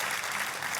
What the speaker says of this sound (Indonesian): Kita kasih tepuk tangannya,